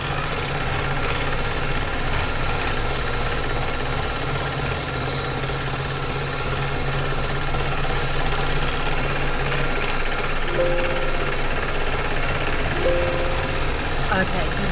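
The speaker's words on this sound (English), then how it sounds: "the machine's overpowering my voice" A home sewing machine runs without pause at a steady drone through the whole stretch, loud and close, with a faint voice under it.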